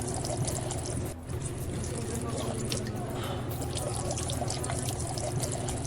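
Water runs continuously from a public fountain outside a run-down Berlin apartment block, a steady nearby splashing and trickling pour with a brief dip partway through.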